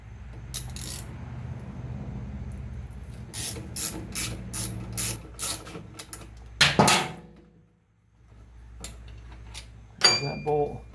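A ratchet works on an engine bolt of a Grom clone motorcycle in a workshop: bursts of rapid metallic clicking, with a few sharper clanks of tools and pauses between them.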